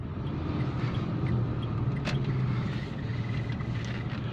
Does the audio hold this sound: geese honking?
no